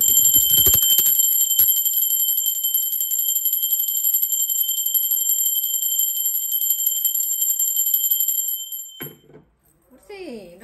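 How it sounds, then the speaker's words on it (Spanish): A bell rings with a bright, sustained shimmering tone that holds steady for about nine seconds before cutting off, followed by a brief spoken voice at the end. "va campana."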